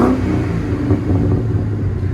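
A 2003 Ford Crown Victoria Police Interceptor with a 4.6L V8 and Dynomax Race Bullet dual exhaust gives a loud, close, smooth, deep rumble at steady idle, with no talk.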